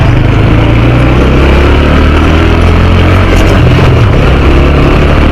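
A motorcycle rides slowly down a narrow brick-paved lane, its engine holding a loud, steady low drone close up with wind rumble and no clear revving.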